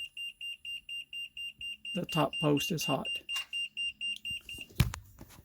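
Short electronic beeps from a vehicle system with the key switched on, after a Battle Born lithium battery install, repeat at a steady pulse, about two per second, with a person speaking briefly over them partway through.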